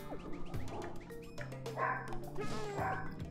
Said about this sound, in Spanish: ¿por qué ladran tanto?